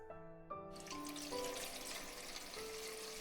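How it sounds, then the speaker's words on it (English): Water runs steadily from a kitchen tap in the visual novel Steins;Gate 0. A soft, close splashing stream begins after half a second over quiet background music and continues to the end. "I looked around the room while Kudits got me some water from the tap."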